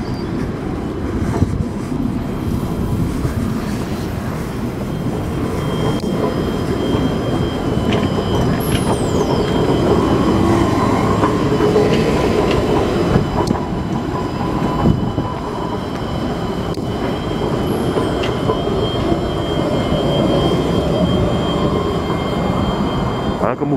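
A T9 test tram runs along the rails at Porte de Choisy in Paris with a loud, sustained low rumble and rolling wheel noise, speeding up slightly, with faint high squeals.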